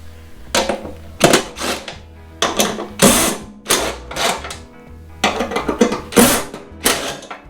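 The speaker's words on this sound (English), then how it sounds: "Now we'll take the 4 bolts, hold the fender on." Fender bolts being removed on a Box tractor 417A, a series of sharp bursts of ratcheting and clicking in irregular clusters, close and fairly loud with short pauses between.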